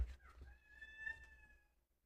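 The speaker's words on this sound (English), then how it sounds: "This cat's gonna be driving me crazy with his meowing." A cat gives a single drawn-out meow, faint and somewhat distant, rising and then tapering away over about a second and a half in a quiet room.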